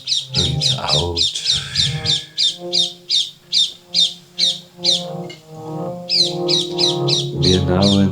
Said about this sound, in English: You can definitely hear the parrots.